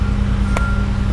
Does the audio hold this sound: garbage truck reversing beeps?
yes